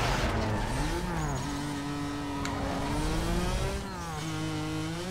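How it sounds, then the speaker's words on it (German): A car's engine revs in the racing video game Need for Speed Most Wanted, a loud continuous drone that rises and falls in pitch through gear changes, with tire squeal mixed in. "der Motor, der klingt schon irgendwie geil"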